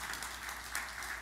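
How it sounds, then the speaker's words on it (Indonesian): A church congregation applauding, a soft, distant wash of many hands clapping together, fairly faint and brief. "Tepuk tangan yang meriah bagi Tuhan Yesus"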